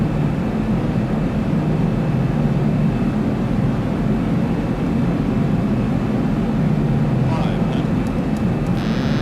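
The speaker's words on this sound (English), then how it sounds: "3 green lights locked, 10 degrees flaps, auto brakes engaged." Steady airliner engine drone during a landing approach in the X-Plane flight simulator, loud and continuous throughout, with brief faint electronic tones near the end.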